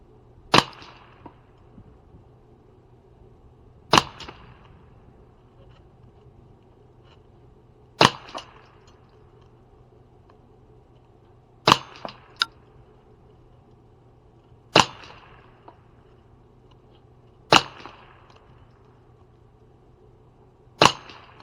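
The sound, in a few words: Ruger 10/22 rifle firing KYL .22 ammunition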